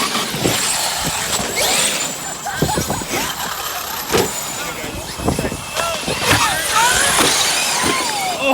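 Traxxas X-Maxx RC trucks racing and crashing at an outdoor bash with a ramp, whining motors rising and falling amid sharp impact cracks and clatters, with people talking over it.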